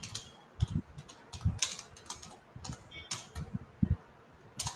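Keys on a computer keyboard clatter in quick, irregular bursts of clicks, recorded close and fairly quiet, with no one talking.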